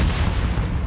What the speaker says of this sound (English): next one won't be a warning shot!